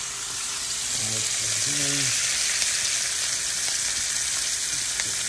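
Steak dinner food frying in a pan gives a steady, bright sizzle throughout, close and fairly loud, with a short spoken phrase and a brief hum near the start.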